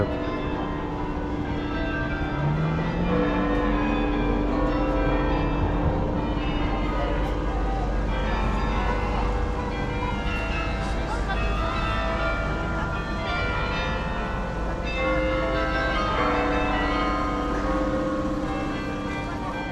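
Church bells ring in a steady, repeated pattern over a busy outdoor background of low rumble and distant crowd noise in Bruges.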